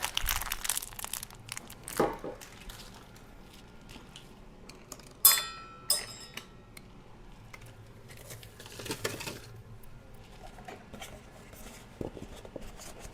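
Someone folds and crumples an empty milk carton in a kitchen while cleaning up, giving close crinkling and crushing of waxed cardboard in irregular bursts, with sharper snaps and tearing-like creases between quieter pauses.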